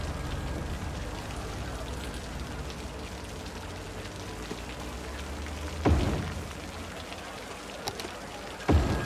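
Steady, even rain hiss from a Cities: Skylines game fills the scene at moderate level, with two brief louder bursts partway through that could be thunder or gusts.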